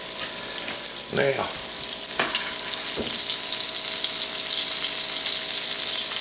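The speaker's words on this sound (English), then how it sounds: "Now let's gently lay in our hamburger steaks. Country fried hamburger steaks, just like that." Hamburger steaks for country fried hamburger steak sizzle and fry steadily in a hot cast iron pan, a continuous close hiss with a few clanks and scrapes early on, and a voice speaks briefly at the start.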